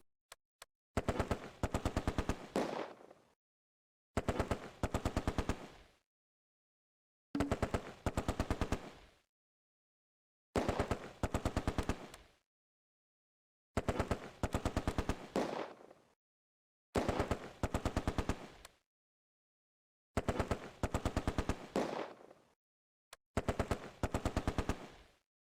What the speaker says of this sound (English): The MG42 opens up on the right